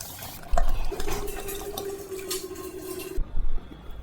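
Ground paste goes into a pan of crackling mustard seeds and green chillies and is stirred while making green gram rasam. A loud sizzle and spatter comes with a spoon scraping the pan.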